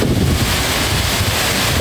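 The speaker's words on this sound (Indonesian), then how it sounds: "Kita di bawah air terjun" A loud, steady roar of rushing, crashing water fills the whole clip, close and constant, standing beneath Efrata Waterfall on Samosir, Indonesia.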